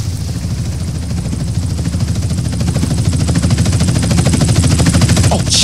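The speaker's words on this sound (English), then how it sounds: "Chopper inbound!" An in-game helicopter approaches in Grand Theft Auto San Andreas, a steady loud rotor chop that builds gradually over several seconds, with no voices.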